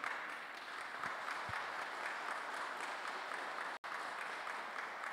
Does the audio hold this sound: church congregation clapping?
yes